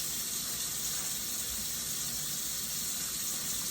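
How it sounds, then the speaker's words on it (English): Cooked spaghetti being poured into a strainer, giving a steady hissing rush of draining water and steam that runs through the whole short stretch at moderate volume, with no talking. "I'm actually going to show you me draining it, the noodles."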